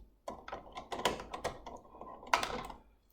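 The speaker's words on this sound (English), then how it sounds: "I open up the blade and I take the blade out" A Cricut cutting machine's blade housing is opened and the blade pulled out, making a quick run of close, crisp plastic clicks and taps with a sharper snap near the end.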